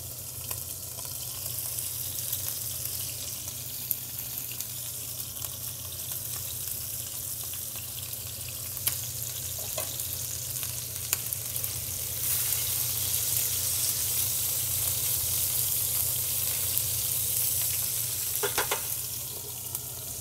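A Tuscan beef roll sears in hot oil in a pan, a steady dense sizzle and crackle that grows slightly louder partway through, with occasional clicks and pops of turning, and no talking.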